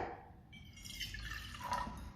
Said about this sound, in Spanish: Vamos a agregar el agua fría.